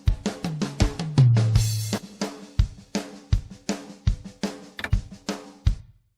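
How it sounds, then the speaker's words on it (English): Full drum kit mix for a country song: steady kick and snare backbeat with cymbals, plus a low tom fill near the start, crisp and upfront, then ending abruptly; no voices. "So our drums altogether sound like this"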